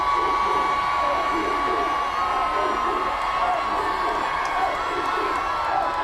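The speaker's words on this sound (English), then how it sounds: "Now the South crowd's getting into it." Crowd at a Friday night high school football game, South versus Bishop Carroll in Salina, cheering and whooping in a loud, continuous roar that fills the stands.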